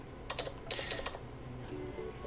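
Fingers tap out quick, light bursts of keystrokes on a Surface Duo's on-screen keyboard, faint and close, followed by a soft rustle in a quiet room.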